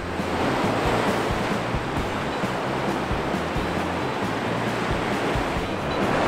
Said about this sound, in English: I'm on the beach at Gulfstream Street Beach Access, just south of Jeanette's Pier here in Nags Head